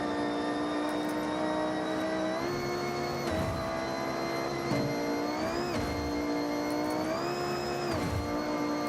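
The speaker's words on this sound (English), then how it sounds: "Please allow me to launch the car." A racing car in Forza Horizon launches and climbs through its gears, with a steady high engine whine that rises and drops at each shift across several short pulls, loud and close, with no talking.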